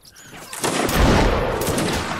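A massed musket volley crashes out in Mount & Blade Napoleonic Wars, a dense rolling burst of overlapping gunshots that swells after a quiet start and sustains loudly before trailing off.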